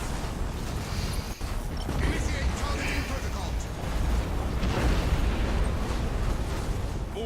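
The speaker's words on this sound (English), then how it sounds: "Explosions and a slight amount of lag." Spaceships exploding in a large fleet battle in the strategy game Battlefleet Gothic: Armada 2. A dense, steady, loud wall of booming blasts and crackling bursts fills the whole stretch, with barely any let-up.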